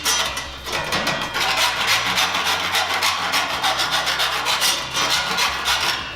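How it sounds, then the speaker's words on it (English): A file rasps along the edge of a 4 mm tray to clear burrs after a 90 degree bend, in quick repeated back-and-forth strokes, close and loud, with no voices. "and then run our file"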